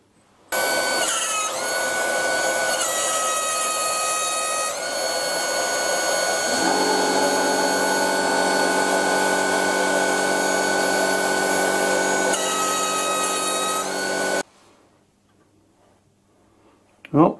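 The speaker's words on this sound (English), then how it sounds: "maybe it's a good idea to true up the stone before I start uh, grinding the jaws" A grinding stone on a lathe being trued before grinding the jaw steps of a worn old chuck, giving a loud steady whining motor drone with shifting tones that runs unbroken for about fourteen seconds, then cuts off.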